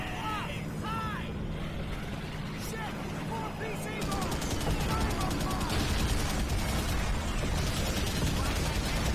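Rapid gunfire in Call of Duty: World at War, with dense bursts of shots and explosions layered over a constant battle din that grows louder and busier halfway through.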